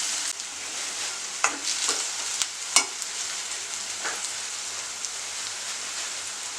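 Onions sautéing with ginger garlic paste for small prawn thokku: a soft, close sizzle with scattered sharp crackles and pops and occasional spoon scrapes, no talking.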